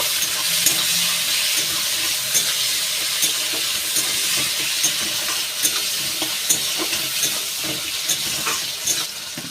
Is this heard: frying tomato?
yes